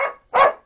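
Two close, loud barks from Daisy the dog, the second fuller and stronger, with no other sound around them.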